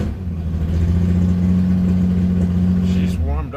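A 1967 Triumph GT6 engine idles steadily after a cold start with the choke in use, a low, even hum holding close and loud for several seconds before a brief rise at the end; no one speaks.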